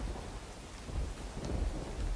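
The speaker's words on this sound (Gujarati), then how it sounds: "બગસરામાં લગભગ દોઢ કલાકથી સતત ધોધમાર વરસાદ પડે છે" Heavy rain pours steadily in Bagasara, Amreli, Gujarat, a dense continuous hiss with low rumbling underneath, moderately loud and unbroken from start to finish.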